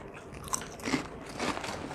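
Crunchy cow skin chips (keripik kulit), a Bali snack, are bitten and chewed close up, with several crisp crackling crunches over a steady noisy background.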